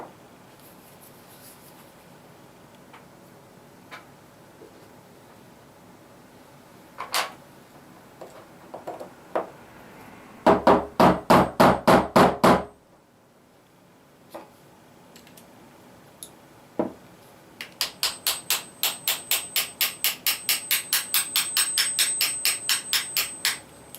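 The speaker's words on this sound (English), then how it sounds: "what we're going to do is just going to tap this pin out here on the back" Tapping a pin out of the back of a KJ Works KC-02 airsoft pistol, with scattered single knocks and then quick runs of sharp metallic taps in fast bursts, close and clear, no voices.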